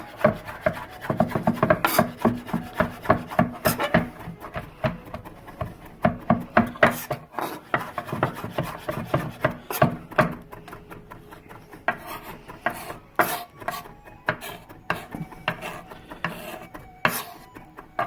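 A knife mincing garlic and ginger on a cutting board, tapping in quick irregular bursts of close, crisp chops that keep going with brief pauses.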